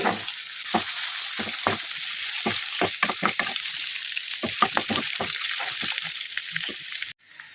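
Chopped egg whites sizzling in a curry pan with carrot, a steady loud frying hiss broken by repeated scraping strokes of a spoon stirring the pieces.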